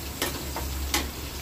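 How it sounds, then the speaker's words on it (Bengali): Fish fries in a pan, giving a steady, close sizzling hiss broken by a couple of brief, louder spitting bursts. "মাছটা ভাজা ভাজা হয়ে এসেছে,"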